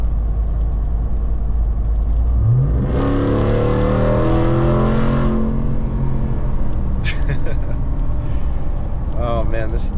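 A 2022 Ram TRX truck accelerating hard down a straightaway, a deep engine roar that climbs in pitch through gear pulls and stays loud and close throughout, with a short voice near the end.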